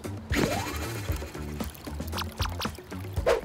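Water leaking from a broken pipe splashes and pours noisily nearby, an uneven gushing trickle with irregular spurts.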